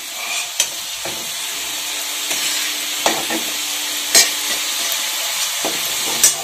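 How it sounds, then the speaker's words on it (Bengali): Mixed vegetables fry together in a pan for a loitka dried-fish recipe, giving a steady sizzle. Several sharp clinks and scrapes of a stirring utensil punctuate it, with no voices. "সব সবজি একসাথে ভাজা হয়ে গেছে।"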